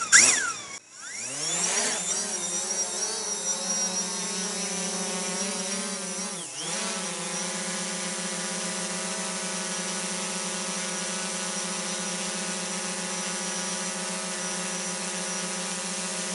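Quadcopter drone in the air over a forest while mushroom hunting on a warm September day, its rotors giving a steady high whine that rises after a brief start, then holds a constant loud hum with no talking.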